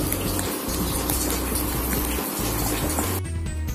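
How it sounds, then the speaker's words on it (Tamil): Steady bubbling and hissing of Thanjavur kadappa curry boiling in a covered pot, a constant close simmer with no voices. "நல்லா கொதிக்கட்டும்."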